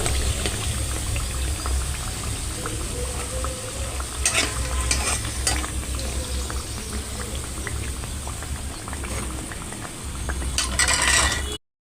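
Chicken garelu, savoury fried fritters, frying in oil over a low flame, giving a steady, close bubbling sizzle throughout with a few brighter crackling bursts.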